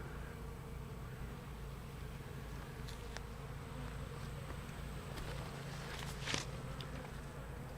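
Honey bees working nectar in an open hive during an inspection give a faint, steady buzzing hum, with a few light taps and rustles scattered over it.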